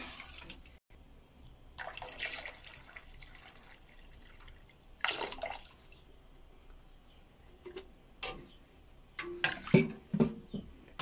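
Water is poured in several separate splashy bursts into a pot of fresh fava bean soup, with quieter gaps between the pours and close, wet dripping sounds.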